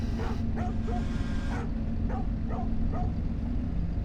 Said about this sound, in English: What an angry dog.